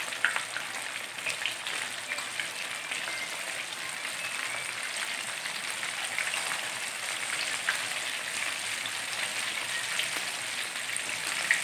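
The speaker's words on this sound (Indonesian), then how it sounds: "Kita goreng ayam Kentucky." Kentucky-style fried chicken sizzles steadily in hot oil, a dense, even crackle that stays loud and unbroken throughout with no voices over it.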